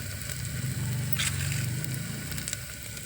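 Marinated mutton frying in a pan for a curry, a steady close sizzle running through the whole stretch with a brief brighter crackle partway, no talking.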